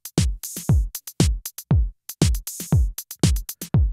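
A programmed drum pattern from a UVI Falcon 3 patch runs through a studio limiter, with punchy kicks, snappy snares and hi-hat hits in a tight repeating groove. It plays loud and close, with no voices.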